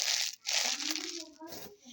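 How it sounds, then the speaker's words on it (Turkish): A plastic bag crinkles loudly up close as trash is put into it while a table is being cleaned, with rustling bursts continuing throughout and a voice talking over them. "Şöyle bu poşeti oh, içine şöyle çöpleri koyuyoruz."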